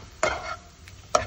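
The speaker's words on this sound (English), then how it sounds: "So just slightly mix so it doesn't form into an omelet." A utensil scrapes through scrambled eggs in a pan, making two short, close stirring strokes about a second apart with quiet between them.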